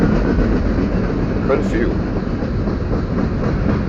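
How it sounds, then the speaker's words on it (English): A loaded BNSF coal train gives off a loud, continuous rumbling roar with a faint metallic rattle, while a person talks over it. "Big loaded coal trains sitting there."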